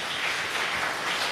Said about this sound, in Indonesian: Tepuk tangan adalah.